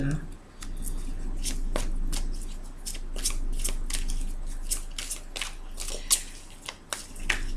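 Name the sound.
shuffling and drawing tarot cards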